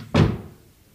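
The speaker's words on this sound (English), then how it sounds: "Close the door, please." A door swings shut with a single solid thunk close by, its dull knock ringing briefly before fading into quiet, with no voices around it.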